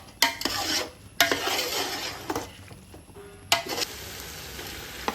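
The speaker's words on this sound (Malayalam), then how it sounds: "ഇനി അതിലോട്ട് കുറച്ച് പുതിനയില നമുക്ക് ഇട്ട് കൊടുക്കാം കേട്ടോ. അത് നല്ലപോലെ ഒന്ന് മിക്സ് ചെയ്തെടുക്കുക." Mint leaves stirred into cooked mutton in a pot for Thalassery mutton biryani, with a few sharp scraping clinks of a spoon against the pot over a soft sizzle, close and moderately loud, no talking.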